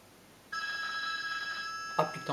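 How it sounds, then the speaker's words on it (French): A telephone rings with a bright, sustained electronic trill that starts suddenly, holds steadily for about a second and a half, then breaks into shorter bursts, close by and fairly loud. "Ah putain, téléphone."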